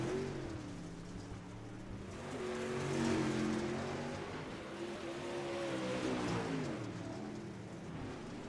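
Super late model race cars roar around an Outlaw Dirt Series dirt track, their engines droning and rising and falling steadily as a group of cars circles past at a distance.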